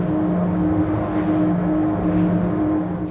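Invictus GT 320S motor boat running at around 40 knots, a loud steady engine drone with low rumbling harmonics and rushing wind and water noise, no speech.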